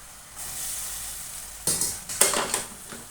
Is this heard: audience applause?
no